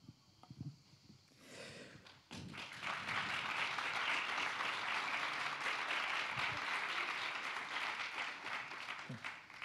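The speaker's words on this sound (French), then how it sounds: "Merci d'applaudir" Applause from an audience at a French sports-and-youth conference in Aix swells after a brief pause and holds as a dense, steady wash of many clapping hands, fairly close and loud, with a few voices murmuring at the start.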